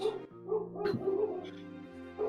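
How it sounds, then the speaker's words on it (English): Dogs bark and yip in a quick rough string of bursts, fairly close, with a whimpering edge and harsh tonal barks overlapping throughout. "You got the dogs barking."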